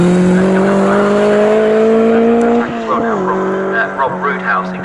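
Historic 1960s racing cars at the Snetterton circuit, a loud sustained engine drone that holds steady, then drops in pitch as a car passes, with a race commentator talking over it.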